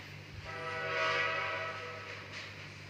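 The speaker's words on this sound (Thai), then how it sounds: "ถึงแล้วโอ้โหสะดวกจริงนะนั่งรถไฟเนี่ย" A train rides along in the island survival game Ocean is Home 2, a steady rolling rumble with a horn-like tone that swells midway, moderately loud, with no speech.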